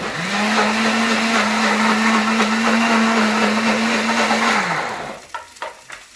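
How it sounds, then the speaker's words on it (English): A blender whirs steadily for about five seconds, grinding walnut pesto ingredients with dark-roasted pine nuts, then spins down and stops, followed by a few soft knocks. "we're going to get them going in the blender"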